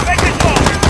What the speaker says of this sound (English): Hey, gunshots?